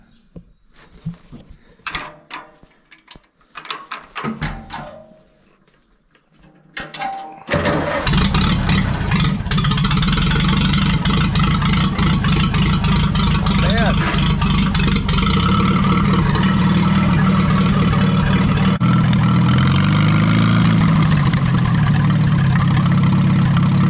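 A Farmall B tractor engine is cranked in choppy, sputtering bursts with short gaps, then catches and settles into a loud, steady idle that runs on unbroken for the rest of the clip.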